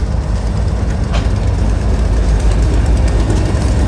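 A freight train pulled by new locomotives passes close by, giving a loud, continuous heavy rumble with rolling rail noise and no pauses throughout.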